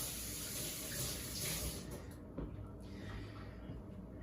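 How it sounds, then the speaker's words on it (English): Water runs from a tap as hands are washed, a soft, close splashing hiss that is strongest in the first half and then thins out, with no talking. "Let me wash my hands real quick."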